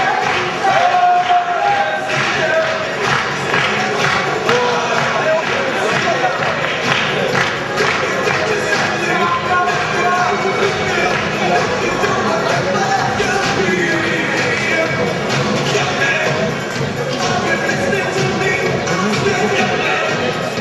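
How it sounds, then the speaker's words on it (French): A sustained wash of audience applause fills a hall, a steady crackle of many clapping hands with crowd voices mixed in and no real pause throughout. "Applaudissez, vous pouvez y aller en même temps."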